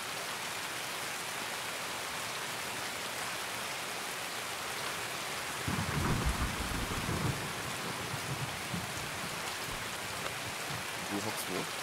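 Steady rain hisses continuously in Escape from Tarkov while a low rumble of thunder rolls through midway, with players talking faintly underneath.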